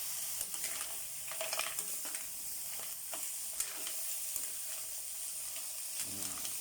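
Mussels cooking in a pan are stirred by a child learning to cook, with soft sizzling, scraping and clinking of the utensil against the pan at moderate, fairly quiet level.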